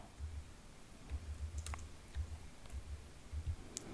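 Keyboard typing and mouse clicking on a computer while building an online store page, a few quiet soft clicks in short bursts against a faint low hum, no voices.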